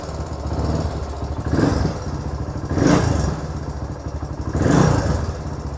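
A vintage motorcycle engine idles on its own, a steady low putter with a loud, rhythmic thump recurring about every second and a half; nobody talks.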